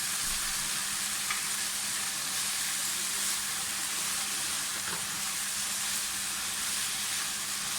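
White parts of spring onion frying in a pan for restaurant-style chicken fried rice, giving a steady, even sizzle and hiss throughout, close by and without talk.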